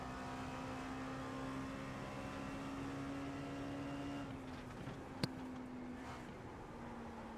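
A Dallara P217 LMP2 race car laps Sebring in the iRacing video game. Its engine holds a steady droning whine that dips partway through, as if the driver is lifting or shifting, then carries on, with one sharp click near the end.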